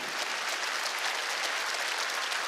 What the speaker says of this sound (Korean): 박수 세게 치라고요